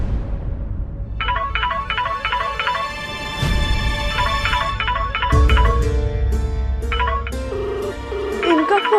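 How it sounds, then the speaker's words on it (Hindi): A telephone rings for an incoming call indoors, with bursts of a repeating electronic ringtone melody that start, pause and resume, loud and close over a low room background, with no talk. "इनका फोन आ रहा है।"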